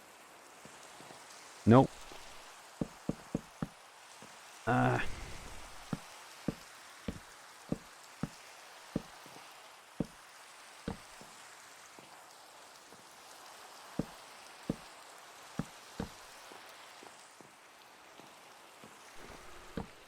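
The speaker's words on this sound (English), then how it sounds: "Okay, there's a bit of rain on the stairs." Rain falls steadily in Minecraft as a soft, even hiss, with a regular series of sharp clicks and taps across it and one short spoken word early on.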